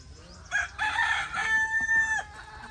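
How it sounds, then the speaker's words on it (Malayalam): A rooster crows loudly and nearby on a farm in Ras Al Khaimah, one long drawn-out call over faint background clucking. "ഇതാണ് നമ്മുടെ കോഴി ഫാം."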